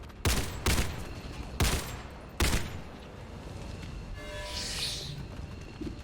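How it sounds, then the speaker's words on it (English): Gunfire and a frag grenade blast in the tactical game XCOM 2: four sharp, loud bursts of shots in the first half, followed by a rushing, hissing burst and fading rumble. "I'm going to frag grenade up there as we go."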